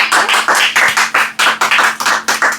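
A congregation claps loudly at a prayer meeting, a rapid rhythmic run of sharp, close claps with no talking over it.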